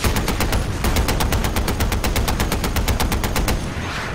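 Mounted machine gun in the video game Far Cry 4 firing a long continuous burst, loud and close, with rapid evenly spaced shots for about four seconds and no talk over it.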